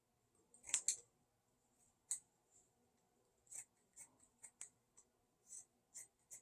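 Scissors cutting paper for a ghost decoration, a series of short crisp snips spread through the clip, close and quiet with no talking.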